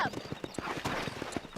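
Horse hooves clip-clopping in Red Dead Redemption, a quick rhythmic run of clear hoof strikes with a brief whinny near the start.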